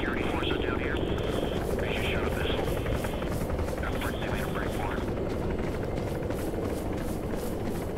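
An Arma 3 helicopter approaches with continuous rotor thumping and a dense engine roar, while people talk over it throughout.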